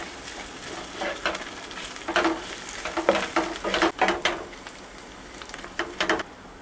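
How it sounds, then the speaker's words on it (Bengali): Onion with ginger garlic paste frying in a pan for a chicken curry: a soft steady sizzle broken by a series of sharper scraping stirs and bursts of crackle, close and loud, with no talking. "দেখুন পেঁয়াজ আদা রসুনটা আমার ভাজা হয়ে গেছে।"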